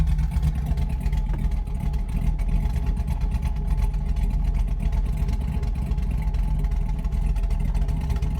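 A car engine idles in park during idle tuning with IAC step adjustments, a steady low hum with a faint regular pulse, held evenly throughout without any revving.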